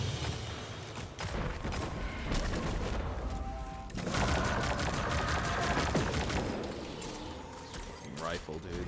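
Rifle fire in the Destiny 2 game, a dense run of rapid gunshots and impacts with mechanical clatter, loud and continuous across the stretch, with a voice talking over it.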